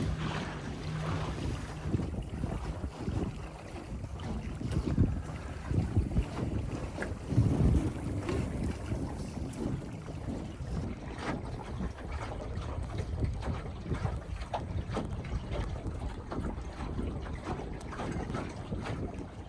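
Sailboat crossing Lake Coeur d'Alene among other sailboats, with steady wind buffeting the microphone and a continuous rush of water along the hull, fairly loud throughout with no talking.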